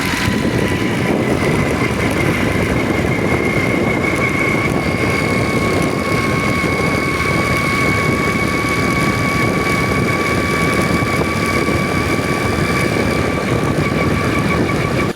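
A Dayang 80cc motorcycle engine runs steadily and loudly nearby, a constant droning hum with a sustained whine, unbroken for the whole stretch and with no talking.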